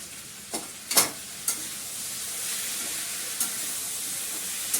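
Masala frying for dal in a small amount of oil, giving a steady close sizzle with a few sharp crackles and stirring clinks near the start.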